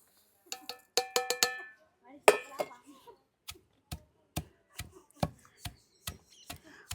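Dried red chillies and prawn shells being pounded in a mortar for a gongura pickle; a series of sharp, close knocks and clinks in an uneven rhythm, each thump distinct against near silence.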